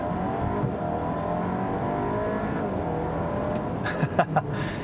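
A 2019 Acura RDX A-Spec SUV pulling away from a stop, a steady low engine drone and road rumble heard from inside the cabin, with a few brief clicks and knocks near the end.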